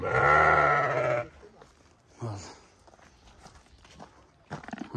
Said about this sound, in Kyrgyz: Мына сыргасы бар кой туугандар.